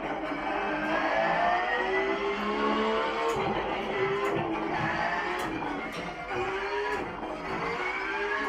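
Several SIM1 race cars lapping Watkins Glen in a sim-racing game, heading through turn 12 toward the main straight for the race start, their engine tones rising and falling in a continuous, fairly loud overlapping drone.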